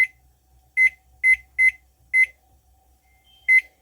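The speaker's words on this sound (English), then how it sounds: "So I'm just going to set the timer for" An electronic kitchen timer beeps as it is being set while baking sourdough rye bread: five short, sharp, evenly spaced beeps in quick succession, then a pause and one more beep, close and clear in a quiet room.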